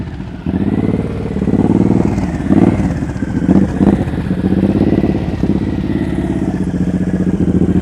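Motorcycle ridden at slow speed during advanced practice drills, engine idling then throttling up in a steady mid-pitched drone with brief revs, loud and close throughout.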